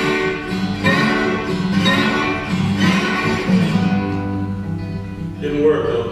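A man imitates a train whistle with his voice, giving several sustained, wavering, wailing tones in a row. The imitation is close and fairly loud.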